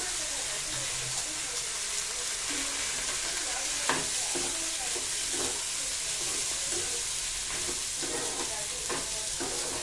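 Green chillies fry in a hot pan as part of a dry palya of fresh field beans, a dense steady sizzle with occasional scraping stirs throughout, close and loud.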